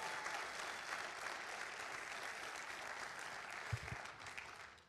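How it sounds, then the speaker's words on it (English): An audience applauds at a live event, a steady wash of clapping from many hands that carries on evenly and tapers off slightly at the end. "Clap for her one more time."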